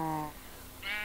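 Two short sheep bleats from the video game Minecraft, near and clear with a brief gap between them, the second higher-pitched, and no talk.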